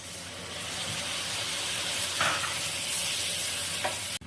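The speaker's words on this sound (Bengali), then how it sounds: "এখন এখানে 1 কাপ গরম জল আমি দিচ্ছি।" A cup of hot water hits well-fried paneer masala in a hot pan for green paneer. It gives a loud, steady sizzle and steam hiss that flares briefly, then cuts off near the end.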